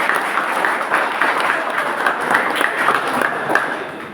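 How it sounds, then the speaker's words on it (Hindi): An audience at a skill convocation ceremony applauds to welcome the chief guest, a dense and loud burst of clapping that holds steady throughout. "आप सभी उनका तालियों के साथ स्वागत करें।"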